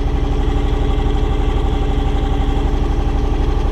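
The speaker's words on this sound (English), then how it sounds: "that's the first time snow blowing with this setup" A John Deere X724 garden tractor fitted with a 54-inch snow blower runs close by with a loud, steady throbbing engine pulse and no voices.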